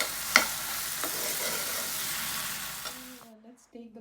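Butter sauce with fresh cream, salt and pepper being stirred in a pan, a steady close sizzle with scraping strokes of the spoon for about three seconds before the pan goes quiet.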